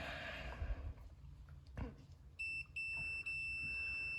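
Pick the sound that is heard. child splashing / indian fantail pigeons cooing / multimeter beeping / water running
multimeter beeping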